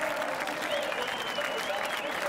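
Steady applause from an appreciative crowd at a 2016 Supercars race, greeting the Holden Racing Team drivers including Garth Tander at his final event, a dense even clapping with some crowd noise mixed in.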